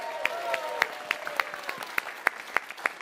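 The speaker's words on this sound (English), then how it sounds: "Let's give them a round of applause." Scattered applause from a live event audience, a modest crowd whose distinct individual claps land in a loose rhythm over a soft background of voices and light cheering.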